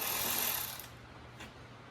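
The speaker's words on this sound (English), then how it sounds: "So I'm just going to take these screws out." A ratcheting tool clicks as screws are removed from a Lincoln Town Car, a short burst of rapid ratchet clicks close by that stops abruptly, followed by a faint single click, with no talk.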